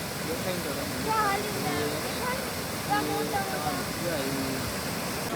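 Water from a stream or small waterfall rushes in a steady, hissing wash, fairly close and unbroken, with faint voices talking underneath.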